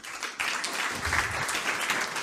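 Audience applause fills the room at a youth hackathon presentation, a steady, dense wash of many hands clapping that carries on without pause for the whole stretch, with no voices rising above it.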